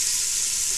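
Vegetables for corn chowder hitting a hot pan, a bright, dense hiss that fills the moment without any talk.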